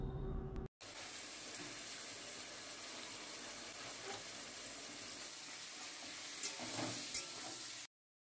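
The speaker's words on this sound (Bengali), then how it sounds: "একসাথে এবার সবগুলো নেড়েচেড়ে ভেজে নেওয়া হবে" Potatoes, onions, shrimp and peas stir-fried together in a hot kadai give off a steady, dense sizzle that holds evenly from start to finish, close and without voices.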